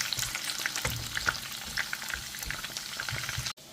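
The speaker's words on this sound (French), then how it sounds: "Et dans l'huile, je vais venir faire frire mes pommes de terre." Potato pieces frying in oil, a vigorous bubbling hiss with crackles and pops, close and steady before cutting off abruptly at the end.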